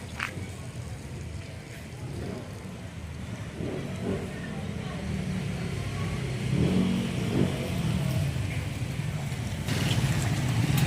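Motorized tricycles idle and rumble along a town street in Balungao, Pangasinan, with a steady low engine drone, a passing engine swelling midway, and faint street ambience and distant voices.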